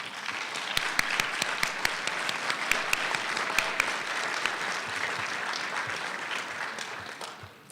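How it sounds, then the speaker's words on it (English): A graduation audience applauds loved ones in a large hall, steady sustained clapping from many hands with a few sharp, distinct claps standing out, gradually thinning toward the end. "Graduates, please take a moment to turn around and give a round of applause to our loved ones."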